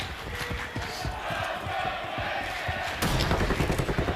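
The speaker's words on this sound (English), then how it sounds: "The crowd trying to ramp up Vegas." Crowd noise at a Call of Duty esports tournament in Las Vegas, a busy rumble of cheering with thumps and shouts that swells louder toward the end.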